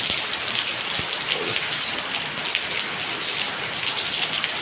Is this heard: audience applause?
no